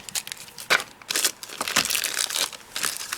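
Crystal drops embellishment kit packaging being cut open during a craft kit unboxing, with crisp plastic crinkling and snipping bursts, several close, sharp rustles in irregular rhythm, no talking.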